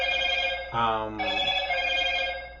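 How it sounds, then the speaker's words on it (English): A mobile phone ringtone sounds loud and close, a repeating tonal ring that fills most of the moment, with a brief spoken filler from a person breaking in partway through. "That's my phone going off."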